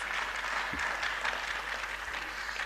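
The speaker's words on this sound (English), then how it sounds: "Please give him another round of applause." Steady, dense audience applause at a university annual lecture event, a continuous patter of many hands at moderate level with no break throughout.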